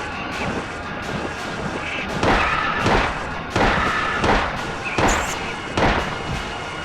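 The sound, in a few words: gunshot in Silent Hill video game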